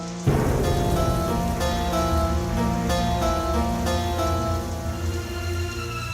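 Rain pours steadily onto a street in a dense, even hiss that stays loud and close throughout, with no voices over it.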